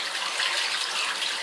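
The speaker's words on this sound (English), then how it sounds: "Let me flush it. I gotta flush it." Toilet flushing in a bathroom, a steady loud rush of gushing water that stays continuous throughout, close and without talking.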